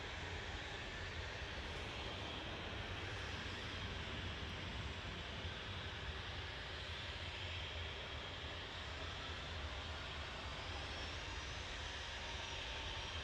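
A seven-year-old Jet2 Boeing 737-800 departs Manchester Airport, its engines a steady, fairly distant roar that holds evenly throughout with no voices.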